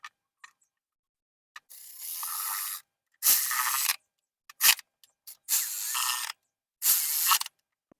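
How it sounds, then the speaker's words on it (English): A ratchet wrench tightens 10 mm valve cover nuts on a 1994–2001 Acura Integra GS-R VTEC engine, giving several close bursts of rapid clicking separated by short pauses. "We just got to put those 10 millimeter nuts, and we put them on, tightening them"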